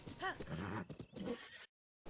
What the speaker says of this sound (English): that way you will tame the horse pretty quickly